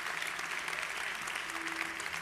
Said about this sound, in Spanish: si va a aplaudir